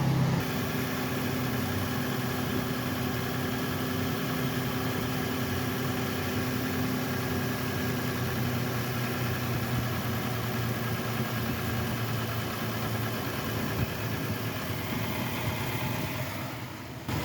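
A Dodge Nitro, checked after a fuel line leak repair, idles with a steady mid-low hum and faint vibration, continuous and close, with no talking.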